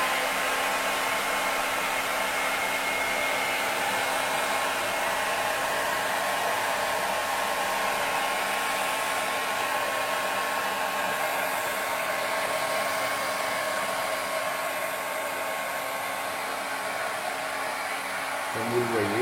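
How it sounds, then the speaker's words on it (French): A hair dryer set to hot blows steadily and continuously onto a fogged window, a loud, even airflow roar that holds for the whole stretch. "regardez voir ce qui va se passer quand on met le sèche-cheveux sur la vitre"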